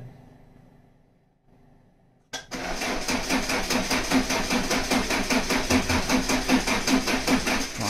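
A rally car engine starting for the first time since July: after near silence a cranking catch bursts in, settling into a loud, close, rapidly pulsing idle that keeps running.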